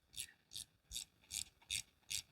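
A ratchet tightening a nut and bolt on the carburetor linkage of an aircooled VW engine fitted with a Holley Sniper 2300 kit, six crisp evenly spaced clicking bursts close to the microphone, quiet, with no talk.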